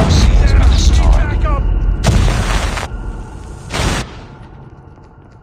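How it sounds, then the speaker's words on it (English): A flashbang grenade detonates in Call of Duty Mobile amid battlefield noise, giving a loud burst followed by a second sharp blast, then the din fades toward quiet. "Flashbang!"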